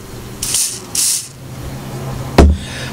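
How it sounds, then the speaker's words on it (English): Two short hissing bursts of silicone spray onto a video tape, then a sharper clack, all close to the microphone in an otherwise quiet room. "So we spray some silicone on there."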